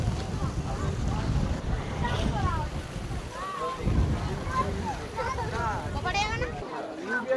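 Strong wind gusts buffet the microphone beside the Matla river at Koikhali, with water and waves nearby, blowing steadily and loud under a person talking throughout.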